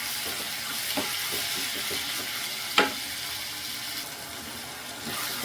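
Tomatoes sizzle with salt in a pan, a steady frying hiss broken by soft stirring scrapes and one sharp utensil knock midway.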